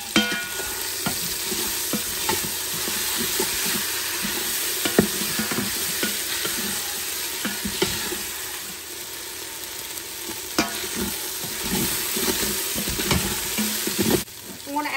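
Meat sizzling and frying in a pressure cooker on sauté mode, with steady crackle and occasional stirring scrapes throughout, close and moderately loud with no talking.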